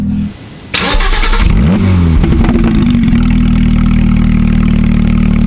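A loud engine fires up and revs sharply through a BBI aftermarket exhaust, the pitch sweeping up and down, then settles into a deep, rumbling idle with a throaty note.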